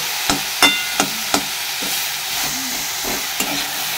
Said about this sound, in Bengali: তাই আমার জন্য একটু বিনস ভাজা করছি।